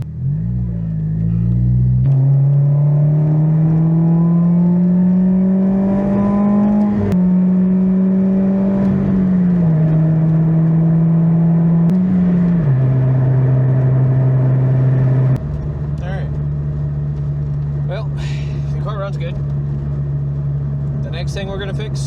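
A car on a test drive sends a steady engine drone and road rumble throughout. The pitch rises and then steps down several times as it shifts gears, and it grows slightly quieter near the end.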